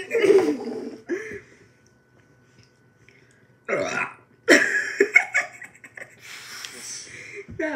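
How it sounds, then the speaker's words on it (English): A loud, foamy burp right after a drink is gulped down, followed by a quiet pause and then more bursts of voice and breathy noise from someone nearby. "That burp, it was foamy."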